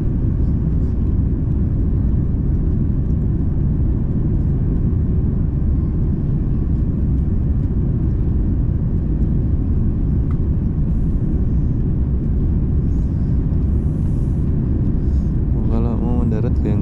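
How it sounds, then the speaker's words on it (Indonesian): An airliner cabin during the landing approach at Taipei fills with a loud, continuous low engine rumble and roar, and a voice speaks briefly near the end. "Kalau mau mendarat goyang-goyang gini ya pesawatnya."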